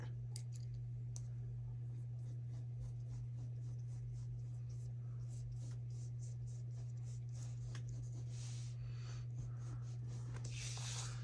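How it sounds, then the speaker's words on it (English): Pencil sketching a hat on paper for a Lucky Charms drawing, heard as a steady run of faint, close scratchy strokes and small taps over a constant low electrical hum, with no talking. "Now we're now gonna sketch the hat."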